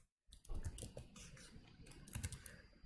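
Rapid typing on a computer keyboard, a steady run of close, crisp key clicks with a brief silent gap at the start.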